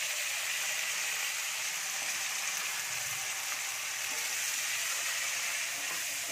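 Chopped tomatoes hit hot oil with lightly fried garlic in a home kitchen pan, giving a steady, dense sizzle and crackle that holds evenly close up for the whole stretch with no voices.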